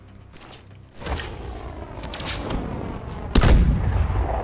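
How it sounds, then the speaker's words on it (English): In Call of Duty: Advanced Warfare, a threat grenade is thrown, bringing a sharp metallic clatter and a loud burst, set against continuous game ambience and distant firing. "Toss a threat grenade."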